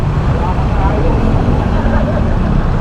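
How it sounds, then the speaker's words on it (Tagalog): Heavy road traffic hums steadily and loudly close by, a dense low rumble of engines with a motorcycle squeezing through the congested lanes, continuous for the whole stretch with no pauses. "Alam niya naman sobrang traffic"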